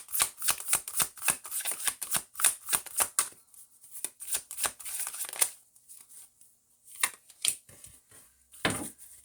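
Tarot cards being riffled and shuffled in a rapid run of crisp flutters, then a pause and a few more snaps and a final shuffle burst, close and clear with no talking.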